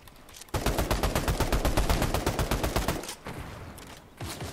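A long burst of gunfire in Fortnite, loud rapid shots in a steady rhythm for about two and a half seconds, then a pause and a few scattered shots after.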